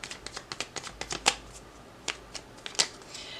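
Tarot cards being handled and shuffled to draw a final card, a quick run of crisp, close paper flicks and snaps with a few sharper slaps, no talking.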